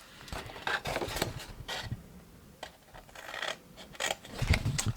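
Scissors snip through card to form a double-sized triangular pet box, giving a close, steady run of crisp cuts and rasping rubs with short pauses between strokes.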